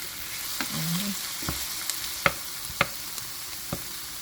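Butter and pimento seeds sizzle in a pan with garlic and thyme, a steady close frying hiss under a few sharp spoon taps and scrapes, with no talking.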